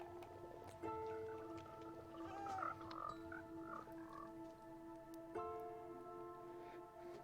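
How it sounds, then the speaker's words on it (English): Frogs croak in Minecraft version 1.19 around open mangrove swamp water, with soft, repeated tonal croaks over quiet game ambience. "Oh, I got a lot of frogs here."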